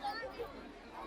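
A crowd of pilgrims at the Kishanpur Mahadev temple chattering, a soft blur of many overlapping voices at a distance, quiet and continuous.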